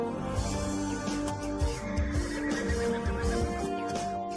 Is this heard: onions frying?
no